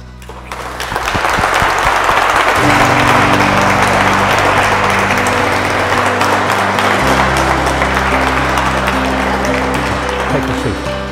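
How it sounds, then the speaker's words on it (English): Wedding guests applaud together after the couple's traditional kiss, a dense, sustained burst of clapping that holds steady for several seconds at close range, with a low hum running underneath. "we're going to give a round of applause."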